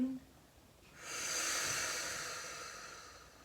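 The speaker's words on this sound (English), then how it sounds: "Breathing in." A long, deep inhalation in a stretch and relax class, a soft airy hiss that begins after a second of near-silence and holds steady for about two seconds before slowly fading.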